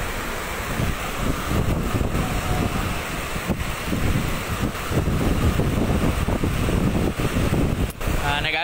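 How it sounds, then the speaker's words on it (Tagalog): Strong, gusting typhoon wind swirls around the mic beside the Marikina River during a storm, a loud continuous roar with buffeting across the whole stretch and no clear speech. "Ang hangin paikot eh."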